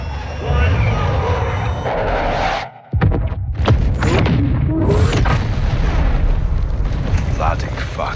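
A targeted strike detonates in Call of Duty Modern Warfare 2: a loud, sustained roaring blast with a sudden gap, then continued rumbling debris and scattered crackling impacts, with voices talking over the din.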